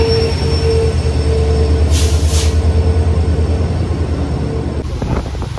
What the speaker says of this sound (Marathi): तिकडून आमची ट्रेन येईल